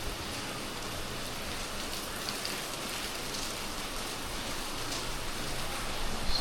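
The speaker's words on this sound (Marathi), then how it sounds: "सकाळपासून पाऊस सुरू आहे," Steady rain falls outside a balcony in a broad, even patter that holds at a constant level throughout. No voices or other sounds rise above it.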